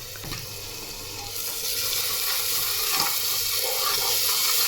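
Spoon stirring spices such as salt and turmeric into mixed lentils cooking in a pan, with a steady wet sizzle and soft scraping that grows slightly louder, continuous and close.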